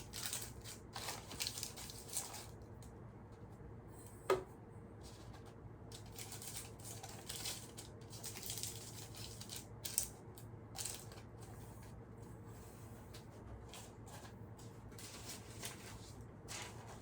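Scissors cut and crinkle parchment paper that is being fitted into a round cake pan for a devil's food cake. The snips and rustles are quiet and intermittent, with a few sharper clicks, in a hushed room.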